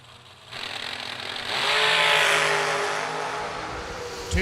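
A drag racing car sits staged in the beams at the start line of a drag racing event, its engine revving loud and rising into a sustained roar, then holding steady with a sharp burst near the end.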